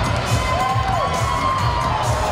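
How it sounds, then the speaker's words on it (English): A crowd at an MMA fight in Georgia cheers and whoops loudly with clapping mixed in, a dense roar of voices that stays at full volume for the short stretch. "give him a round of applause"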